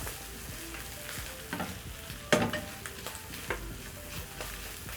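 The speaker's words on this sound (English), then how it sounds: "Then I'm going to give my sausages a stir." Sausages frying in a pan seasoned with black pepper and salt, stirred with a handful of clattering spatula strokes over a low, steady sizzle close by.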